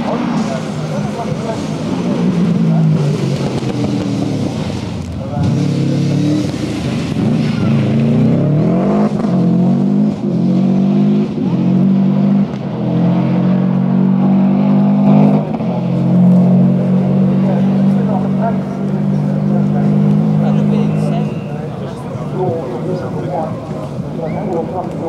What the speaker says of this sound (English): We've got a car veering off the edge of the road on the way down to the walk.